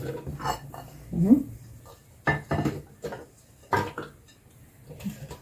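Pepper and garlic pounded in a mortar: several dull, irregular thuds and knocks spaced a second or so apart, close by and moderately loud, with quiet pauses between strikes.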